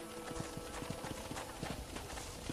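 Rapid, rhythmic clip-clop of horse hooves in Red Dead Redemption over a thick, constant background wash, the beats evenly spaced and moderately loud.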